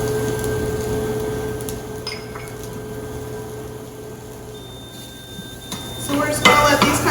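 Onions and garlic sizzle softly in a pan under a steady hum, with clinks of a utensil scraping and stirring against the pan, louder clatter near the end.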